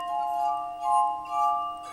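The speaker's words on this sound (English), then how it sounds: "are you talking about the glass harmonica?" A glass harmonica sings with sustained pure tones, several pitches held together and swelling in gentle waves, clear and close with no voices.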